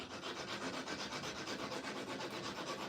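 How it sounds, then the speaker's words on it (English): A 4-in-1 rasp is drawn on its least abrasive side around a hickory golf club shaft during restoration, making a soft, continuous scratchy rubbing in quick regular strokes. "this is a 4-in-1 rasp, and I'm taking the least abrasive side"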